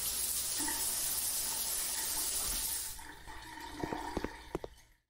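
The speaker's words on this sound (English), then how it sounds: "Have a shower." A shower runs in the video game Denizen, with a loud, even spray of water that stops after about three seconds. A few faint drips and soft knocks follow in near silence.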